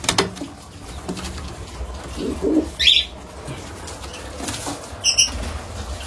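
Pigeons nearby with soft cooing and a few bursts of wing flapping, over low background noise.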